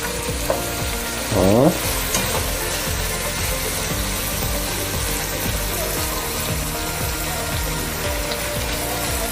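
Food fries in a pan with a loud, steady sizzle, broken by scraping stirs and a brief clatter of the utensil near the start.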